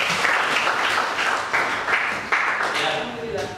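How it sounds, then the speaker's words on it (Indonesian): Students in a classroom clap together for the group, loud uneven bursts of applause that surge and fade, with voices talking over the clapping. "tepuk tangan untuk kita semua."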